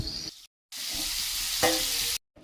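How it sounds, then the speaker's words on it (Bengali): Prawns coated in salt and turmeric fry in hot oil with a loud, bright sizzle, broken by two short silent gaps, plus a brief stir or spatter midway. "চিংড়ি মাছগুলো ধুয়ে নুন হলুদ মাখিয়ে ভালো করে ভেজে নেব"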